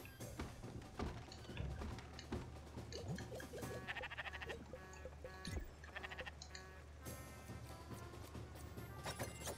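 Sheep bleat in the Spiritfarer video game, heard amid a busy, dense layer of game music and ambient effects, with several short calls scattered through the passage.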